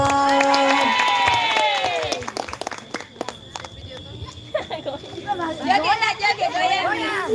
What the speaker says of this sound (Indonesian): tepuk tangan dulu dong untuk Apipa